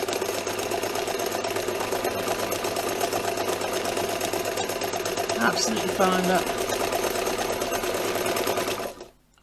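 A zig zag sewing machine motor runs steadily in reverse, a dense mechanical whirr that holds for about nine seconds before cutting off, with a brief spoken remark partway through.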